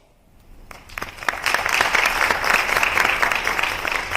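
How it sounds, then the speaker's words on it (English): Audience applause breaks out after a presentation on diversity and anti-discrimination in sports, quickly swelling into a steady, full round of clapping from a sizable crowd that holds through to the end. "A round of applause."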